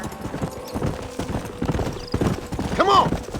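Wild horses gallop in the Red Dead Redemption video game, with hooves drumming rapidly and a sharp whinny near the end, while a voice talks over the action.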